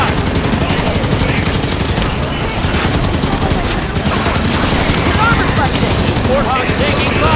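Sustained heavy gunfire and automatic weapon bursts fill a battle in the video game Halo 5, loud and continuous throughout, with shouted voices mixed into the chaos.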